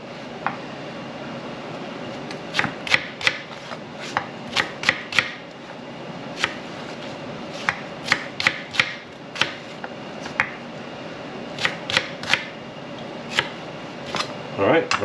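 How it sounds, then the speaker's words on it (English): A knife cuts an onion into thick, coarse slices on a cutting board, giving crisp, irregular taps and knocks over a steady room hum with faint background voices. "I'll just do a thick, coarse slice. I want that onion to have body because it's going to be cooking."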